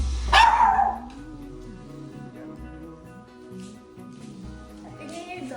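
Dogs barking from inside a crate during New Year celebrations, a burst of barks up front then fading under ongoing chatter and festive background noise.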